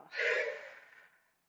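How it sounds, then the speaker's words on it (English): A single long, breathy exhale during box breathing, close up, swelling quickly then tapering off into silence over about a second. "Inhale, hold just a second, and then exhale."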